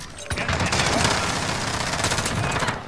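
Rapid automatic fire from a GRAU 5.56 rifle in Modern Warfare rattles continuously for nearly three seconds, loud and close.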